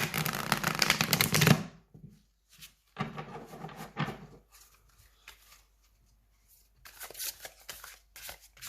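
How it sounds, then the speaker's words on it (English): A tarot card deck is riffle shuffled close up, a loud fluttering burst of cards followed by several shorter, softer riffles and taps with pauses between. "I'm going to give this a good shuffle"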